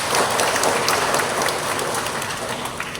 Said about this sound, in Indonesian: Lumayan, tepuk tangan dulu dari WM.